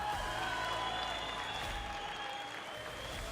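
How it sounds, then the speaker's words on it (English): Crowd applause fills an MMA arena after a women's fight ends by referee stoppage in the second round, a steady dense roar of clapping and cheering throughout, with faint tonal sounds running underneath. "Let's give these two warriors a big round of applause."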